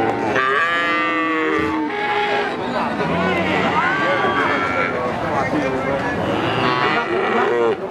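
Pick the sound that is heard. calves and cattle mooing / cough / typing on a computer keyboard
calves and cattle mooing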